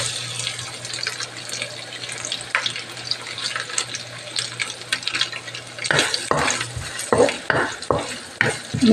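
Dried squid fries in a pan for a quiampong rice dish, with a low steady sizzle at first. It then breaks into a run of brisk, close scraping stir strokes and clatter toward the end.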